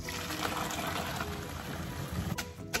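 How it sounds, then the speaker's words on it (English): Water from boiled noodles pours out while they are drained, a soft continuous splashing trickle running throughout at moderate volume. "let's drain the noodles"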